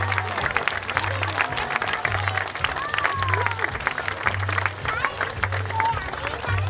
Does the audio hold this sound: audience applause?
yes